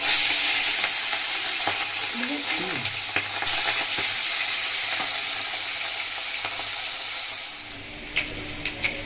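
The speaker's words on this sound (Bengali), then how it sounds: "মাছে হলুদ লবণ মাখিয়ে নিয়েছি আর এবারে হচ্ছে কড়াই তেল দিয়ে দিচ্ছি তেল তো গরম হয়ে গেছে এবার মাছগুলো ভাজবো" Fish coated in turmeric and salt fries in hot oil in a kadai, a loud, steady sizzle and crackle with occasional clinks and stirring noises, and faint sounds in the background.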